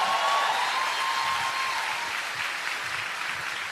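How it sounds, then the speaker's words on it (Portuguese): A congregation at an evangelical preaching service breaks into applause, a broad, even roar of clapping that fades slightly toward the end, with a brief whistle or sung tone over the start. "Dá uma salva de palmas para Jesus."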